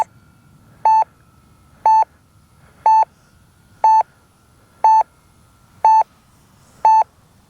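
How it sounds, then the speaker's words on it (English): An electronic timer alarm sounds seven evenly spaced tones, roughly one per second, clear and loud over a faint low hum, at an RC airplane maiden flight of a 1600mm twin-engine Twin Otter. "Timer expired."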